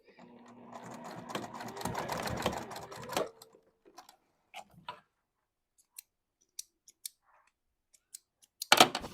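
Sewing machine topstitching Ecolux cork with Tech 70 tan thread, one steady burst of rapid stitching for about three seconds, then scattered faint clicks and handling taps, closing with a brief louder rustle.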